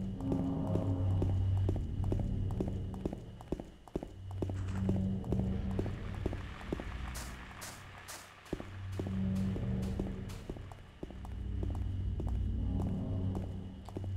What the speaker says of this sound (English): Is that my own footsteps?